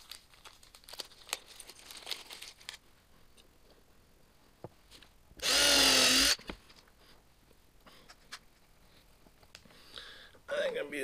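Power drill with a small bit, about 1/8 inch, boring into wood for a turned pepper mill: one loud, steady whir lasting about a second, framed by quiet workshop handling noises before and after.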